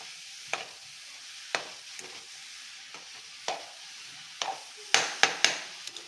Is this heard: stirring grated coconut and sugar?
yes